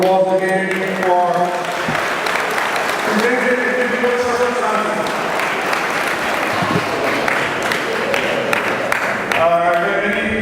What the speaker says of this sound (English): Let's give a round of applause again for